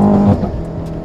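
A BMW F90 M5 with a stage 2 tune launches hard from launch control, its engine roaring loud and close in a brief, strong surge that eases slightly as it pulls away.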